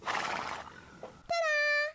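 A toy horse neighs from an ambulance toy playset: a bright, high whinny rings out clearly for about half a second after a voice speaks.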